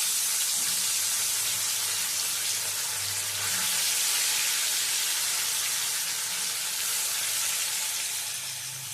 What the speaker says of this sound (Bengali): মাছগুলো এপিট ওপিট করে ভেজা